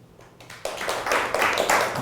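An audience at a lecture on dynamic modeling breaks into applause: a few scattered claps grow quickly into a steady, dense round of clapping.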